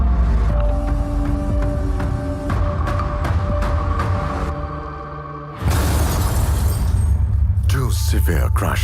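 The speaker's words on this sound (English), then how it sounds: "The same car now faces a second high-severity side impact." Tata Tiago CNG car in a high-severity side impact crash test, with loud crunching and shattering metal and glass in several sharp hits, then a sustained roar and a second heavy impact burst.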